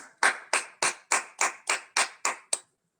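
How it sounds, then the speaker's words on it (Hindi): Nine sharp, evenly spaced claps in unison at a church youth meeting, ringing out alone in a steady rhythm before stopping. "हम सब मिलके एक बार सब नौजवानों के लिए जोरदार ताली बजाएं"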